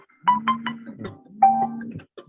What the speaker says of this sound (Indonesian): tunggu sebentar Bang. Ada telepon.